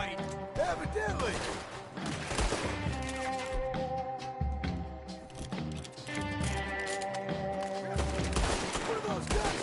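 Gunfight in Red Dead Redemption 2: bursts of repeated gunshots and thuds mixed with horse hooves and clattering, under game dialogue and ambient sound.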